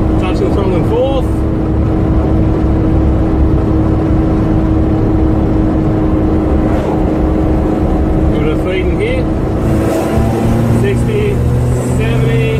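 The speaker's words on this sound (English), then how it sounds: "Just touching the throttle and forth." A Suzuki G16B engine running close and loud, its throttle blipped so the note rises and falls in small swells over a steady drone.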